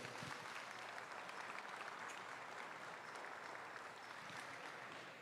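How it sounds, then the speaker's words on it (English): Audience applause fills a livestock show hall at the Oklahoma Youth Expo, a dense, steady wash of many hands clapping at an even, fairly distant level throughout. "Let's give them a round of applause, please."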